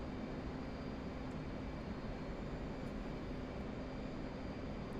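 Steady, continuous roar of an F/A-18C jet engine in the DCS flight simulator, loud and unbroken with a droning low rumble and a faint high whine throughout.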